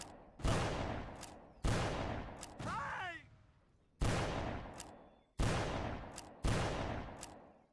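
Pistol gunfire in a Civil War video game: six sharp, loud shots at irregular intervals, each decaying quickly, with a brief chirping sound in between.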